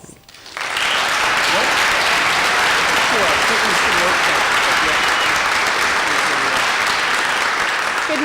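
An audience at an introductory conference session bursts into sustained applause for a guest speaker, starting abruptly and holding loud and dense throughout.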